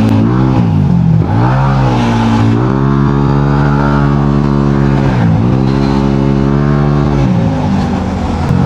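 Engines of cars and motorcycles drone steadily in street traffic while riding a Yamaha Aerox V1 scooter, with rising and falling revs and a loud, continuous near hum throughout.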